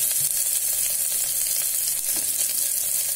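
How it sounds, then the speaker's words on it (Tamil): Big onions sauté in a pan for an avarakkai pulao, producing a loud, dense, continuous hissing sizzle that stays even throughout, with no voices. "இப்போ இதுல பெரிய வெங்காயம் இதை வதக்கி"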